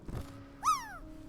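A single cat gives one clear, rising-then-falling meow, fairly close and alone, after a brief soft rustle in an otherwise quiet indoor room.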